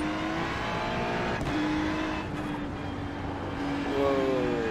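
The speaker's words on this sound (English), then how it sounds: "Watch your mirrors, there's a car approaching." An engine roars steadily on a race car approaching in a racing simulator game, its pitch climbing and shifting as gears change, loud and continuous throughout with no talking.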